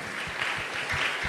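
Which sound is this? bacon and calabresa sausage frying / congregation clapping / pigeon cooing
congregation clapping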